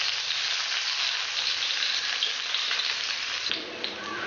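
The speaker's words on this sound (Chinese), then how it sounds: "把葱姜蒜倒下去炒香" Scallion, ginger and garlic hitting hot oil in a wok, a loud, steady crackling sizzle that holds throughout, briefly shifting near the end as the aromatics are stirred.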